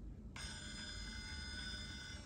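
High-pitched electronic whine from a Phoenix Portal RC crawler's motor driven by a Castle ESC at low speed, a steady tonal buzz that switches on abruptly and holds over faint background noise.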